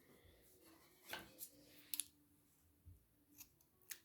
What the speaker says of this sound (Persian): اضافهش رو من قیچی میزنم